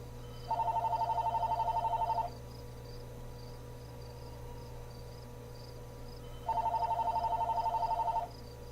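A telephone rings in the video game Life is Strange: two bright two-second bursts of trilling rings separated by a pause, over a quiet low hum.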